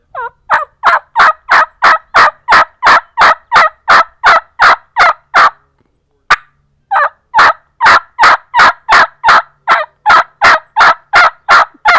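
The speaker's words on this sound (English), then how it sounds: "To advance that yelp, I'm going to start trying to bring air out of my diaphragm like you do when you talk." A turkey yelp on a diaphragm mouth call, played as long runs of loud, evenly spaced rasping notes with one brief pause midway, close and alone.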